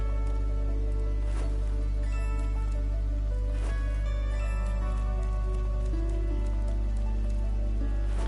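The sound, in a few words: rain falling in a library area, from the video game Atelier Ryza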